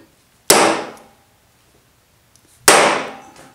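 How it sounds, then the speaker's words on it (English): A spur drive bit tapped into a wooden blank on a lathe: two sharp, loud knocks about two seconds apart, each ringing briefly before fading, with quiet between. "Gently drive it into the workpiece."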